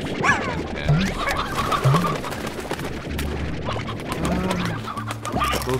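Hens and chickadoos in the Slime Rancher game make a steady chorus of loud, close clucks and soft coos, several birds overlapping with no pauses.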